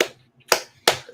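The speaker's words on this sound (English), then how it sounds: "I am doing the movie slow clap" A single person doing a slow, theatrical clap, three loud separate claps spaced about a third of a second apart, close by and alone with no talk.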